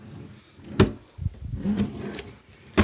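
A desk drawer in a home schoolroom slides and knocks shut with a couple of sharp wooden thuds and a short scraping run between them, close by, with no talk over it.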